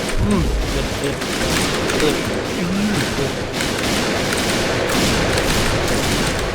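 Gunfire rattles in the video game Point Blank as dense, rapid bursts of shots thud and crackle continuously, with a voice talking over the shooting.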